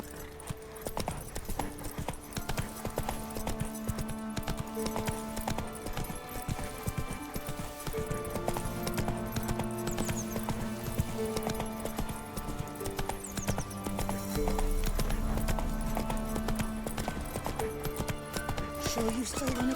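Roach, a horse in the Witcher 3 video game, gallops with a fast, rhythmic clip-clop of hooves that carries on throughout, heard under game music and a speaking voice.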